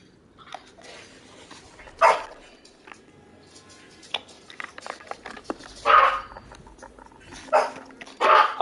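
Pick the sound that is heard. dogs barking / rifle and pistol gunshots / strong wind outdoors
dogs barking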